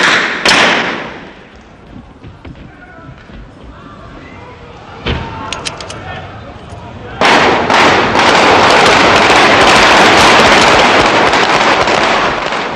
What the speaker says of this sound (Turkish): Yüzlerce kurşun sesi ve yaşanan müthiş panik içinde kimse neler olduğunun farkında değildir